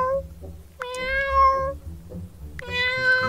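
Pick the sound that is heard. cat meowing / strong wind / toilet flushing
cat meowing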